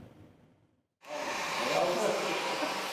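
A hair dryer switches on abruptly after a faint voice and a short silence, then blows steadily with a loud, close whooshing roar.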